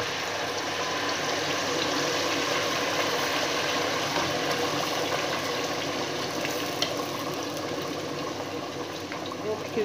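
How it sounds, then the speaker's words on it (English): Spinach stew ingredients with tomatoes frying in a pan, a loud, continuous crackling sizzle that stays close and steady throughout. "So I'm going to leave it to just fry a bit"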